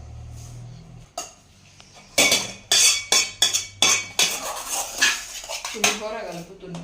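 Dishes and utensils clink and clatter in a home kitchen while pulihora rice is mixed, with a run of sharp, irregular metallic knocks close by and some faint talk in the background.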